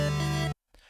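Oberheim TEO-5 synth pad built from square-wave oscillators with pulse-width modulation and a sub oscillator, a steady sustained chord that cuts off abruptly, followed by a brief faint tail.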